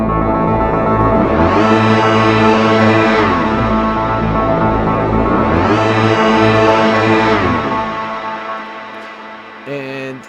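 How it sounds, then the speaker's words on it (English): A loud, dark synthesizer pad sweeps upward in pitch, holds, then slides back down, repeating the rise and fall twice before fading out. "So first the pad slides up, and then it slides down."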